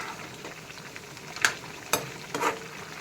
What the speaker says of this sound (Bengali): গরম হয়েছে সবজিটা নাড়া দিয়ে দেখি